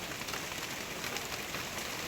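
Heavy rain pounds a Tata Ace delivery truck during a drive. A steady, dense hiss of downpour drums on the surface at an even level throughout, with no voices.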